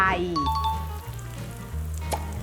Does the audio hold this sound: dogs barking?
no